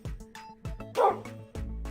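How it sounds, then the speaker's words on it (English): A wolf in the Minecraft video game barks like a dog, giving a handful of short, sharp yips in quick succession, fairly close and clear, with no voices. "which sounds like a dog. It's meant to be a wolf, but it barks like a dog."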